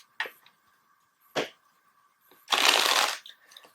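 Tarot cards are shuffled in short riffling bursts, two brief flicks and then a longer, louder riffle of about half a second, close up and with no talk.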